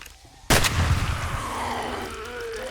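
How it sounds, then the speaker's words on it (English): An auto shotgun fires in the game 7 Days to Die, one sharp loud blast followed by a long rumbling, reverberant tail that slowly fades. "let's try our auto shotgun"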